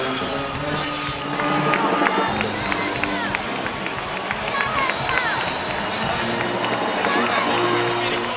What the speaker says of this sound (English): much of this applause from the crowd here in Omaha for the Spartans